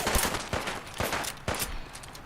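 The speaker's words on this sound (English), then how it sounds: "No, you shot me in the head" A rapid run of gunfire in Fallout 4, four or five sharp, loud shots spaced about half a second apart, close and punchy with no talk over them.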